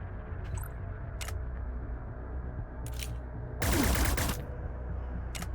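In the video game Cyber Knights: Flashpoint, a short burst of gunfire breaks out over a quiet low hum, one dense rapid volley lasting about half a second, with a few brief isolated clicks and pops scattered before and after it.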